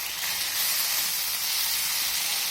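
Tomato and ginger fry in a hot pan, giving a continuous, close, loud sizzling hiss that stays even throughout with no speech.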